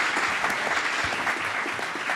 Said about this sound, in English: let's give a huge round of applause to our panelists and our board members up here